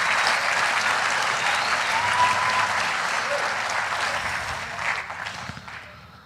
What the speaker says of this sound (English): just give a quick round of applause for everybody behind the scenes